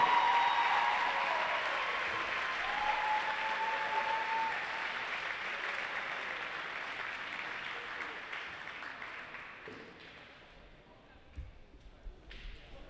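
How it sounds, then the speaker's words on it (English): Sustained applause from a crowd at a school basketball game, clapping loudly at first and gradually fading out, ending with a few scattered thumps. "How about one more collective round of applause"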